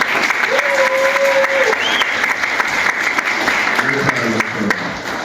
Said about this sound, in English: give a round of applause for our amazing faculty